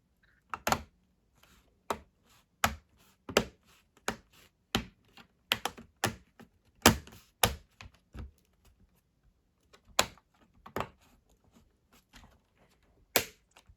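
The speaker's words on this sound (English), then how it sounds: "you have to press around the edges until all clips snap into place" Plastic bottom panel of an ASUS ROG Strix G16 gaming laptop being pressed around its edges, giving a series of sharp, close clicks and snaps in irregular bursts with short pauses between them.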